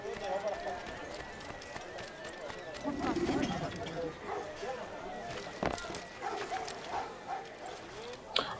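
Dogs barking in the Assassin's Creed video game, heard amid horse hooves clip-clopping and other game ambience, with people talking over the scene throughout.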